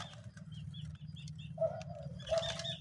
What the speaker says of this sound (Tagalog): yung awit ng mga ibon.